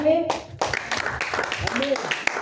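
A church congregation claps and applauds in dense, scattered rhythm, with voices and cheering mixed in over the clapping.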